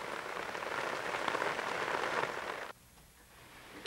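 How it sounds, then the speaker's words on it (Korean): Rain falling steadily in an afternoon outdoor setting, a dense hiss that cuts off abruptly to near quiet. "오후 늦게부터는 다시 비가 내리기 시작했다"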